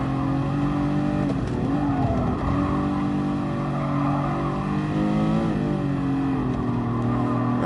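A Mercedes-AMG Black Series car accelerates hard on the Nürburgring, its engine note rising and dropping repeatedly as it shifts up through the gears, loud and close throughout with no pauses.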